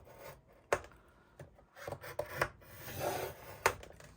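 Paper is scored on a scoreboard at half an inch for a homegrown mini album page, making soft close rubbing and scraping strokes with a few sharp taps, heard alone without speech.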